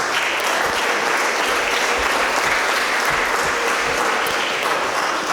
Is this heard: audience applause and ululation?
yes